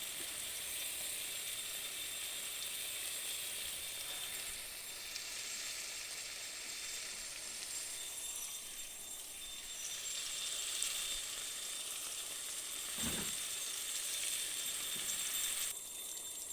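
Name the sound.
fish pieces sizzling in a pan of onion masala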